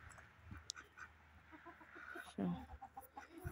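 Chickens cluck softly in a rural farmyard, a few scattered, quiet calls against a low background hum, with a faint voice speaking at moments.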